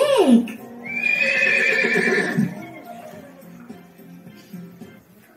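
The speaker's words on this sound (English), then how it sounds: "The horse is very big." A horse whinnies loudly and close by: a quick high squeal drops into a long, wavering neigh that then trails off into quieter snorting.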